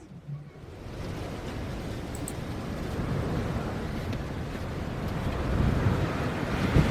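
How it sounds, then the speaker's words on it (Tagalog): Strong wind buffets the microphone at a seaside campsite in Pagudpod, with rolling surf behind it; a steady, loud roar that builds slightly toward the end, with no voices. "Napakalakas kasi ng hangin at may konting ambon."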